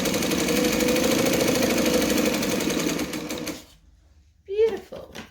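Domestic sewing machine stitching fabric for a bag lining, a fast, steady mechanical whirr for about three seconds that then stops, followed by a brief voice.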